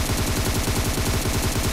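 Loud, rapid automatic gunfire in PUBG Mobile rattles on without pause, shot after shot in a dense, steady stream, with no voices.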